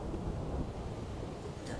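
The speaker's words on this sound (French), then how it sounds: "Après plusieurs minutes d'attente, l'orage éclata." Thunderstorm sound effect for a read-aloud children's story: a low, continuous rumble with a wash of rain-like hiss, steady and moderately quiet for the whole stretch.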